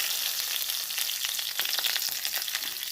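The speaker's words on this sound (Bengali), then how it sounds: "শুকনো লঙ্কা ফোড়ন দিয়ে দিলাম।" Dried red chillies and mustard seeds sizzle and crackle steadily in hot oil as a tempering for a fish roe tamarind dish, a dense frying hiss with scattered pops, close and fairly loud, no voices.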